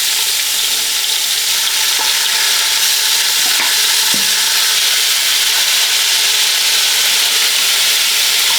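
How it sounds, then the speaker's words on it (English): Neck bones sear in an Instant Pot with a steady, loud sizzle and hiss throughout, broken by a few faint clicks and knocks of meat or utensil against the pot. "We're just searing it first"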